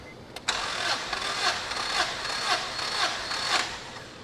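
The B18C VTEC engine in a 2001 Acura Integra GS-R cranks over on the starter without firing during a compression test, giving an even, rhythmic whirring chug at about two beats per second, close and moderately loud.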